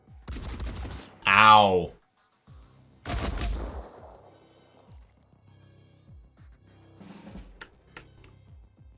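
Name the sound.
gunfire in the video game Phoenix Point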